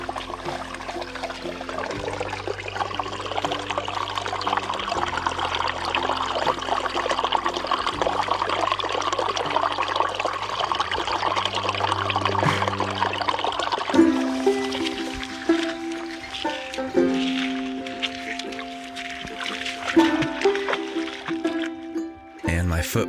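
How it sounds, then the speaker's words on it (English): A small spring gurgles and trickles steadily beside a river, close and continuous, with a faint tonal hum surfacing in the second half. "this little spring. It's hard to tell over video, but it had such a satisfying and rich gurgle to it"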